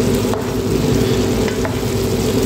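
Mixed vegetables with squash and meat cooking in a pan, a loud continuous sizzle with occasional stirring scrapes, close up and without speech.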